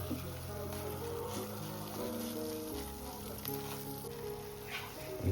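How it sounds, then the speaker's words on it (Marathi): Kalakand mixture cooks and sizzles steadily in a pan as chopped cashews, almonds, pistachios, saffron and cardamom powder are stirred in, a continuous bubbling hiss with soft stirring scrapes. "काजू बदाम पिस्ता आणि केसर आणि वेलची पूड सुद्धा मस्त मिक्स करून घेऊ"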